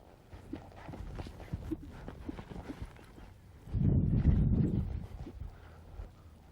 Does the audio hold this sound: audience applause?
no